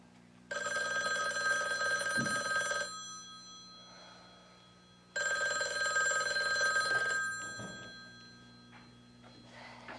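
Old-style telephone bell ringing in two long bursts separated by a pause, moderately loud indoors, with faint background rumble between rings.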